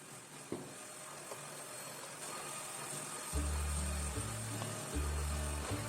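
A vacuum cleaner run over a carpet at home gives a steady, fairly faint whooshing drone, with a low hum joining partway through and no talk.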